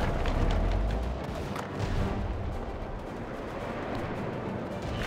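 Soviet guns in World War Armies 3 let loose, heavy booming artillery reports rolling into dense, overlapping gunfire, loudest at the start and continuing as a dull rumbling barrage.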